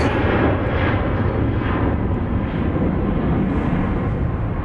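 An airplane taking off at Dallas Love Field Airport at night, a loud, steady, broad engine roar that stays constant and dense throughout.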